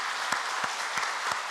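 A church congregation applauds during a Sunday worship service, producing steady, even clapping with regular low thumps recurring about three times per second underneath.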